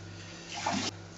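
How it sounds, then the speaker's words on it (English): Boiling water poured into wine must to raise its temperature during home winemaking: a brief, fairly quiet splashing pour that swells and then stops, with no talking. "add some boiling water just to get the temperature up"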